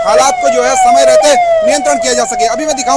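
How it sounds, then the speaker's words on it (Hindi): An ambulance siren amid unrest in Haldwani wails loudly and continuously in a falling, repeating tone, with a man reporting over it. "चारों ओर आपको एम्बुलेंस की आवाजें सुनाई दे रही हैं।"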